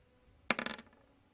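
Dice rolled for a tabletop game, one short clattering burst of several quick rattling impacts that dies out within about a third of a second, close and otherwise quiet.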